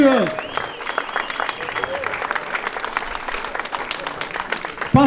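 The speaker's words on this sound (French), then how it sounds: "vous pouvez applaudir" A crowd at a CGT union rally outside the Var prefecture claps steadily outdoors, many hands in a continuous patter, with shouts and voices mixed in and a loud voice at the edges.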